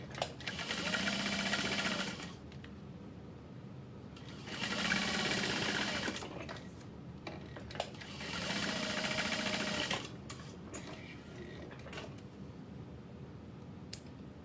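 A sewing machine stitches along the sides of a fabric project, set at about 4.5 stitch length, running in three steady bursts of roughly two seconds each with short pauses between.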